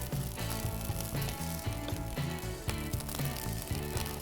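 Green onion sizzles and fries in rice on a hot grill griddle, a steady dense crackle with rhythmic scraping and clanking underneath, continuous and fairly close, no talk.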